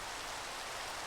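Rain in the Minecraft video game, a brief, steady hiss of falling rain that stays even and continuous throughout, with no voices.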